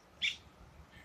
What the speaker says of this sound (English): like you hear the birds right now